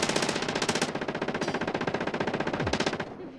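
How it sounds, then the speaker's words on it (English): Rapid rhythmic gunfire in a video game firefight, a steady fast string of loud shots lasting several seconds before cutting off, no voices. "I got sniped from behind."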